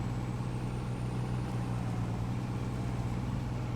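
A truck in the Farming Simulator 19 video game drives along with a steady low engine drone and rumble, continuous and fairly loud, with no voices over it.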